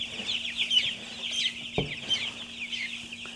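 Young meat chickens cluck and peep steadily in a brooder, a continuous chorus of close chirps with one brief bump partway through.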